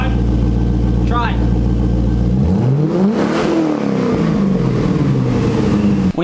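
A car engine fitted with new Speed Engineering headers and a Borla exhaust idles low, then revs hard, pitch climbing and falling back once, loud and close, with voices in the background.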